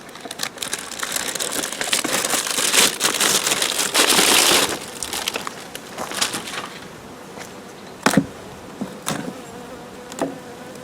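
A honeybee colony buzzes during a hive inspection, with a dense, close hum swelling loudly midway, overlaid by crackling and rustling of frames and wax foundation being handled, then settling into quieter buzzing with sharp clicks.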